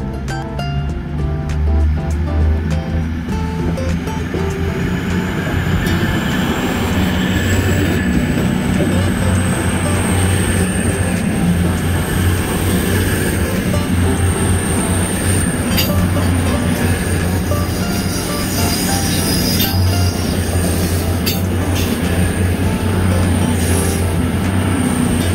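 A ten-carriage Avanti passenger train rolls past the station at Colwyn Bay, a loud continuous rumble with high, sustained wheel squeal and occasional clatter throughout.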